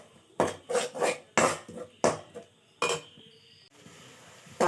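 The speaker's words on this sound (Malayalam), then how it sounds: "ചതച്ചെടുത്തത് ഞാൻ ചേർത്ത് ഒന്ന് വഴറ്റിയെടുക്കാം" Wet paste of ground onion, tomato, ginger, pepper and garlic being stirred in a pan for crab curry, with repeated clinks and scrapes of a utensil against the pot in irregular bursts and a faint sizzle underneath.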